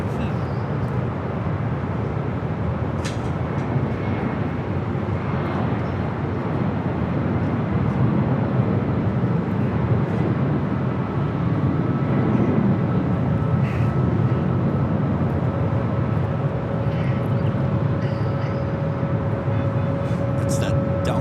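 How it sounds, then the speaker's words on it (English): Delta Airlines Boeing 757 at LAX airport, a continuous loud broadband jet roar, steady for twenty seconds, with a voice talking faintly beneath it. "It's that Delta 757."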